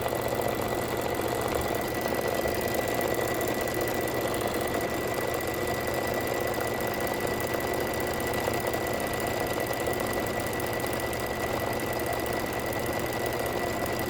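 An embroidery machine stitching a satin circle outline for a Kimberbell Sweet as Pie dimensional badge, a steady, continuous mechanical whir and rapid needle chatter that holds at an even level with no pauses.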